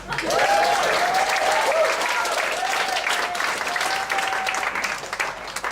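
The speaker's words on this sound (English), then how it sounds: "Applause." An audience at a PechaKucha Night in Ubud, Bali, applauds as the first speaker is introduced, with loud, sustained clapping that fills the whole stretch and tapers slightly at the end.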